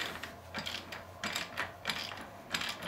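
A ratchet wrench tightens a 16 mm bolt head against a 15 mm nylon lock nut on a skid and shock mount, giving quiet, close bursts of rapid pawl clicks in an even back-and-forth rhythm.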